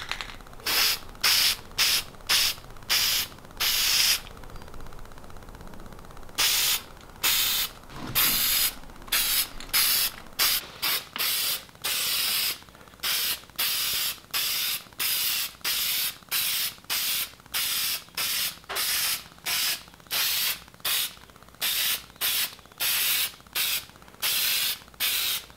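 Aerosol spray paint hissing onto metal van brackets in a steady series of short, evenly spaced bursts, close and loud, with one longer gap partway through.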